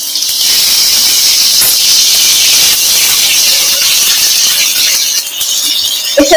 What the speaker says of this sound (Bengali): প্রথমে কড়াই তেলটা গরম করে নিয়ে আমি ফুলকপিগুলো ভেজে নেব